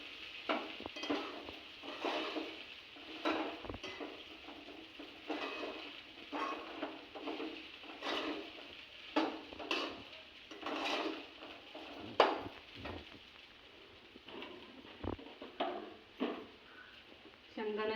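Food being stirred in a cooking pot during preparation of homemade khichdi, with scraping and clinking of a utensil against the pot in an irregular rhythm throughout, under someone speaking.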